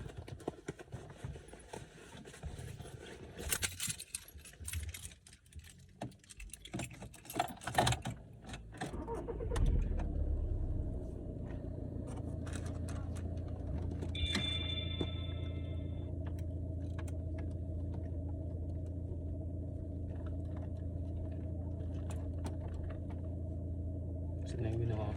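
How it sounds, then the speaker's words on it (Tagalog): Car engine cranking and catching, then settling into a steady idle that hums on after several seconds of clatter and handling noises; a person talks intermittently nearby. "Andaran natin tong kotse para hindi madaling malubat."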